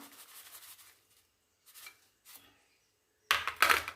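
A spoon scrapes and rubs through a mango and jaggery mixture in a pan in short bursts separated by pauses, ending in a louder, rougher scrape.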